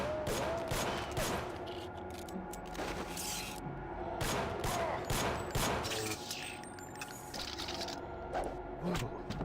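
Repeated loud gunshots in bursts in Cyberpunk 2077, sharp broadband cracks spaced irregularly over several seconds, with little talking between them.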